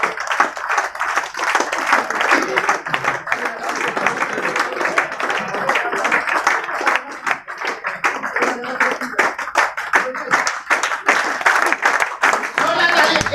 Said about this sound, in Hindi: चारों सर के लिए जोरदार तालियां होनी चाहिए